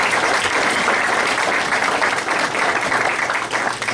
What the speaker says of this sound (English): please give a round of applause to everyone.